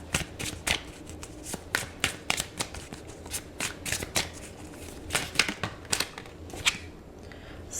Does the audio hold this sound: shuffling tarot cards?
yes